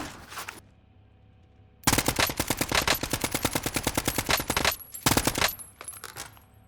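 An AN94 rifle in Warzone fires a long rapid burst of sharp, evenly spaced shots, then a short second burst. A few scattered shots come before and after, and no one speaks.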